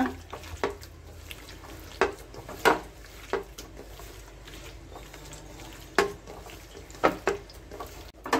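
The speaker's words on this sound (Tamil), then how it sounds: "அதுல நல்லா ஒரு 1/2 லெமனை நல்லா பிழிஞ்சு விட்டுக்கலாம். லைட்டா புளிப்புக்கு அது கூட நல்லா மிக்ஸ் பண்ணிக்கிங்க." Prawns being mixed with squeezed lemon juice in a bowl, giving soft, wet clicks and clinks spaced irregularly, quiet and close.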